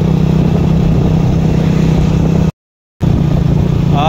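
A motorcycle ridden through cold, foggy morning air near a river bridge gives a steady, loud engine drone with wind rush, broken by a brief dropout.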